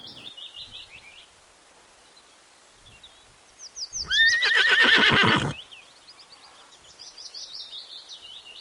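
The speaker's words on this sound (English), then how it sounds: "H. H for horse." A horse gives one loud, drawn-out whinny with a quavering rise and fall, heard alone over soft, steady bird chirps that continue before and after it.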